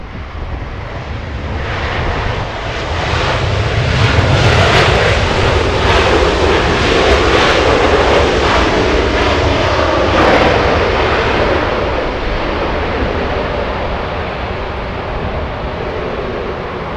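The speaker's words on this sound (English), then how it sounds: "That's an A350-900 Asiana 204." An Asiana Airbus A350-900 arriving at Los Angeles International Airport on a long-haul flight from South Korea, its jet engines roaring steadily and building to a loud, broad rumble before slowly easing off, with no voices.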